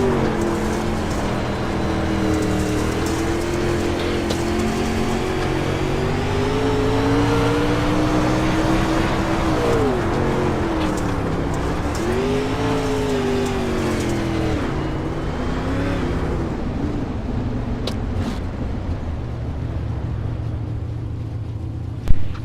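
Race car heard from an on-board camera during a heat race on a track, its engine droning loud and close for the whole lap, pitch rising and dipping through gear changes and corners.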